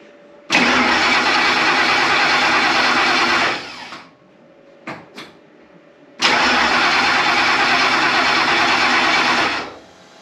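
A car engine cranks in two long bursts of steady whirring starter-motor grind, separated by a short pause with a few faint clunks, and fails to catch either time; loud and close, with no speech.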